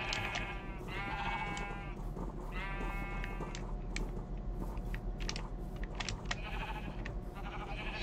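Sheep in the Minecraft video game bleat in several short, quavering calls over a steady low background hum with faint clicks, with no talking.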